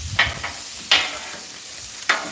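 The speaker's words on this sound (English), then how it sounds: "Now, this is the sizzle I like to hear." Steak frying in a hot pan gives a steady hiss, broken by three short louder bursts of crackling sizzle spread across the stretch, fairly close and with no talk over it.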